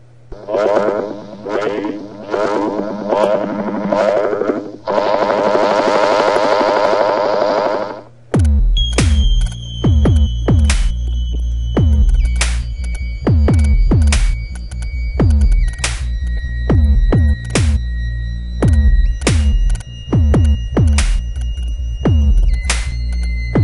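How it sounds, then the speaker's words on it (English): A pulsing synth tone gives way to irregular electronic clicks and ticks over a low throbbing hum, crackling like a radiation counter. "it kind of sounds like a Geiger meter going off"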